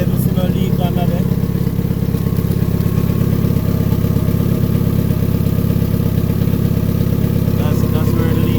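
A car engine idles steadily right after its first start-up following an ATI damper pulley install and power steering delete, a loud, close, even rumble with light mechanical clatter throughout.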